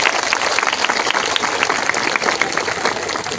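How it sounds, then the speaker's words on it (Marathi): A large crowd at a women's haldi-kunku gathering in Pali claps together in a steady, dense burst of applause that stays loud throughout. "मग एकदा जोरात टाळ्या आपल्या दादांसाठी होऊन जाऊ देत"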